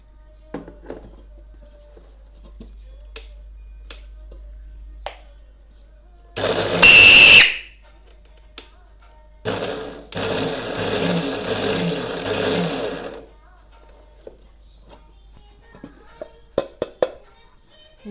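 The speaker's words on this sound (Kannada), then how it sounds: "ಈ ಚಪಾತಿ ಆಗ್ಯದ, ಮಿಕ್ಸರ್ಗೆ ಹಾಕೊಂಬರ್ತೀನಿ." An electric mixer grinder grinding chapati into powder whirs loudly in a short burst, then runs for a longer spell of about three seconds. Quiet clicks and handling sounds come before and after, with no talking.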